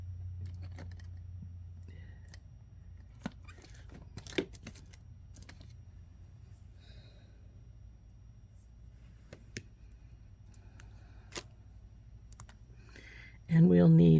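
Cutters snipping through jewelry chain links, giving a handful of crisp, isolated clicks spread over a low background hum, with a louder rustle at the end.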